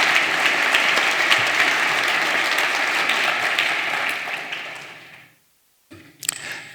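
Audience applause welcoming a speaker onto the stage at an evening event, a dense, sustained clapping wash that fades out, followed after a brief silence by a short burst of further noise.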